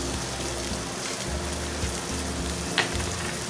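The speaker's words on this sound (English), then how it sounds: "Touch more olive oil. Add our asparagus. Saute them around a little bit." Asparagus sautés in olive oil in a pan, giving a steady, moderate sizzle and crackle with a faint stir or clink near the end and no voices.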